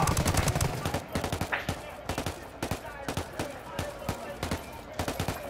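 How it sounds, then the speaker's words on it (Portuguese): Rapid automatic gunfire crackles through a Ghost Recon Wildlands 4x4 PvP match, a dense burst early and then repeated sharp shots in an uneven rhythm. "Eu tô vendo tiro, mano."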